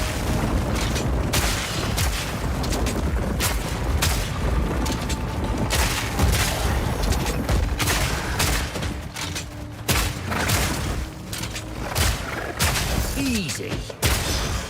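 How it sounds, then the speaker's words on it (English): Crossbow firing bullets in a fantasy witch-hunter video game, heard as repeated loud booming shots and impacts over continuous dense game noise, with talk at times. "this is how a crossbow sounds and shoots"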